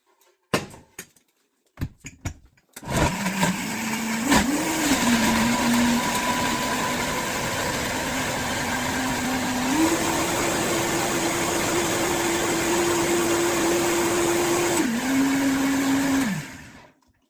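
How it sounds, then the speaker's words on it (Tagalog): A blender whirs steadily after a few clicks, blending hot tea into homemade cream cheese with cloves, turmeric and cinnamon, its motor pitch rising partway through and dropping again before it cuts off. "Let's blender it."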